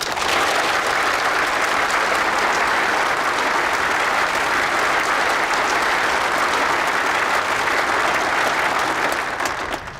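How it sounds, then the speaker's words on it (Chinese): Dense, steady applause from a room full of people at a missile brigade gathering, loud and continuous for the whole stretch with no voices on top, tapering slightly at the very end. "鼓掌！"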